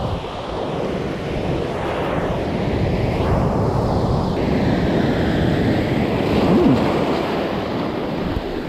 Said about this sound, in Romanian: Iată de ce valuri sunt acolo.